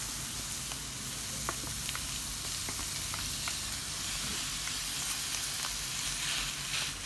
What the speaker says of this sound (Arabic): نتسناو عليها تتشحر ونضيفوا عليها الكفته